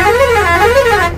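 A truck horn plays a short musical, wavering tune, loud and close, with steady engine rumble underneath.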